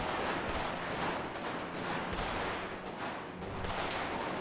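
Gunfire in a video game battle around a castle, a dense, continuous barrage of overlapping shots and bursts, loud and unbroken throughout.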